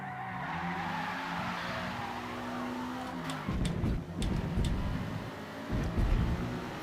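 Mazda RX-7 racing in Forza Motorsport, a steady engine drone with shifting harmonics, then bursts of tire squeal and skidding in the second half, loud and continuous with no talk.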